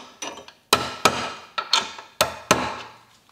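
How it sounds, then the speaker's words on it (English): A hammer strikes a socket set over wheel studs during a Jeep Wrangler radio install, giving about eight sharp metallic knocks in uneven pairs, close and loud with quick decays. "Then I just take a hammer and a socket that goes over these studs."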